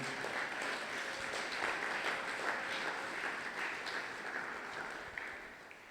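A church congregation applauds at a Sunday worship service, with sustained, even clapping that carries on for several seconds at a moderate distance.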